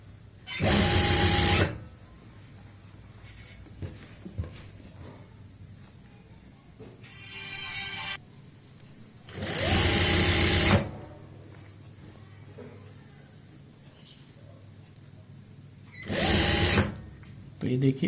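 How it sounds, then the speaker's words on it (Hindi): A sewing machine stitches a kurti collar in three loud bursts, each lasting a second or two, with quiet pauses and soft handling noises between them. "यहाँ पे पूरी फिनिशिंग से इसी तरीके से सिलाई लगाते जाएंगे"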